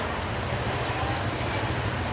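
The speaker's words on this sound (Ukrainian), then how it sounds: "Дивіться, який дощик розпочався, ну капець." Rain starting to fall outdoors, a steady, even hiss of drops pattering on surfaces, close and continuous with no voices.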